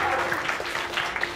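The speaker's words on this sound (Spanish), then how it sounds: "Vamos a darle un fuerte aplauso a la futura mamita" Brief burst of applause for an expectant mother in a scripted television scene, clapping under lively voices for just over a second.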